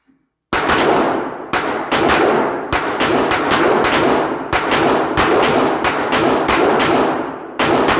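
Pistols fire at an indoor GSSF shooting match. Rapid loud shots come one after another from several shooters on the line, booming and echoing in the enclosed range with barely a pause between them.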